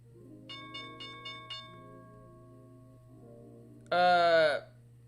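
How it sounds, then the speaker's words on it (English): An opening bell at a stock market's start of trading, heard as a loud, bright sustained ringing tone of roughly half a second, preceded by several soft chime-like tones over a steady background hum. "there's the bell"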